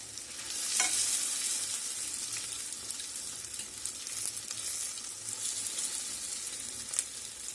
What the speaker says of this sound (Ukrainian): Присмажились наші твердуни на одній стороні і ми їх перевертаємо на іншу.